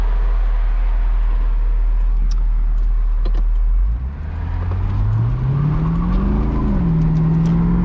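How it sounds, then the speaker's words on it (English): A Chevrolet Corvette C6 convertible with an automatic transmission makes a low steady rumble that swells into rising engine drone as it pulls away, with a faint tire squeal hard to separate from the engine noise. "Got a tiny bit of tire squeal."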